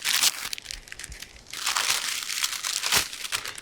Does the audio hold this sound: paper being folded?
yes